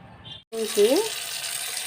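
Water runs and splashes steadily at close range as Malabar spinach leaves are rinsed in plenty of water, with a voice speaking briefly over it.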